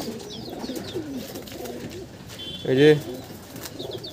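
A male and a female pigeon coo in a pigeon loft in Nadia, a soft rolling murmur of several low coos with one louder, closer burst near the end, while someone speaks briefly over them.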